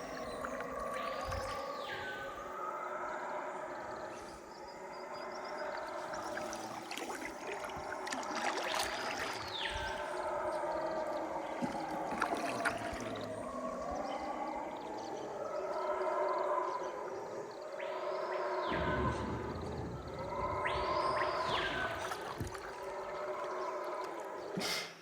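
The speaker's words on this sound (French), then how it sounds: "on a quitté la forêt sur nos 2 embarcations avec le chant des singes hurleurs en fond" Howler monkeys roaring in the Amazon forest, heard from canoes on the water: long, rising and falling deep calls repeat from a moderate distance over steady flowing-water noise.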